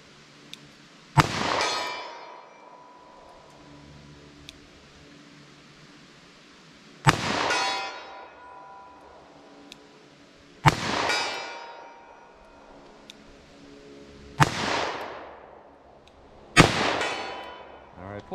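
Five .44 Special pistol shots fired with lead hollow-point rounds at an outdoor range, each a sharp loud crack with a ringing tail, spaced irregularly a few seconds apart with quiet gaps between.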